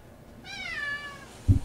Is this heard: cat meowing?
yes